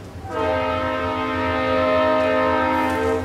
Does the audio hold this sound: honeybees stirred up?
no